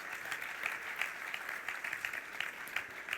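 Steady, dense applause from a conference audience at the Madrid Fusión 2020 food congress, a continuous patter of many hands heard from a distance and fairly faint, with no speech over it.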